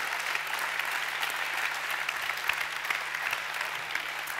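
A hall audience at a young chefs' competition gives the three finalists sustained, dense applause that holds at an even level throughout.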